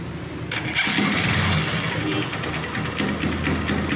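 A Honda TMX Supremo motorcycle engine idles with a loud, continuous metallic clattering rattle from the clutch housing, steady and close throughout.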